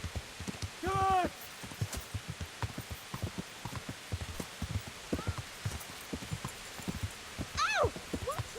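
Steady horse hoofbeats clop along in a quick rhythm in Kingdom Come: Deliverance, with brief voice-like exclamations and whinny-like calls rising over them a couple of times.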